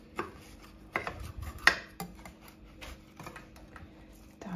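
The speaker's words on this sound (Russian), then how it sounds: "Я ее режу, она прям пш-пш-пш." A knife slicing through an airy, sugar-free apple cake, producing a series of soft crisp crunches and taps, close up, irregular in rhythm with one sharper cut near the middle.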